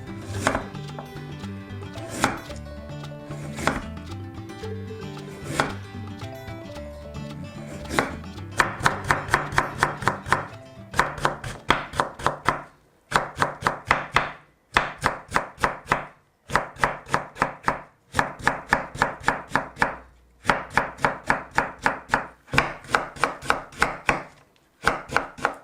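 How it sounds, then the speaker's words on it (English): A kitchen knife chops radish on a cutting board for homemade kimchi, sounding as a long run of sharp, close, rhythmic knocks, slower and separate at first and then in fast dense bursts split by short pauses. "let's cut radish"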